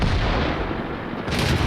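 A T37 tank's gun firing in World of Tanks during a close fight with a tier 10 tank destroyer, a heavy sustained rumble with a sharper crack near the end, loud and up close.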